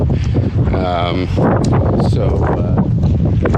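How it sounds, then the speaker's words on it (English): Strong wind of about 20–30 km/h buffets the microphone on Oak Island, a loud, steady roar through the whole stretch, mixed with bursts of speech. "with a good 20-30 kilometer wind blowing"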